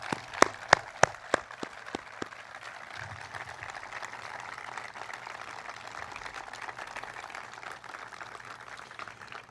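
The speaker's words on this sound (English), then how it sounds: "One final round of applause for everyone who made today possible" Applause at a school commencement ceremony opens with a few sharp, distinct claps nearby, then settles into a soft, steady patter of distant clapping from the audience.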